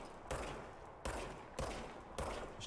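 Four evenly spaced gunshots from the service weapon in the video game Control, sharp loud cracks each trailing into a short decaying tail, alone without talk.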